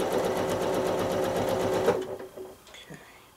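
A sewing machine doing free-motion quilting on a rail fence block gives a fast, steady needle chatter up close, then stops abruptly, leaving faint rustles and a brief voice.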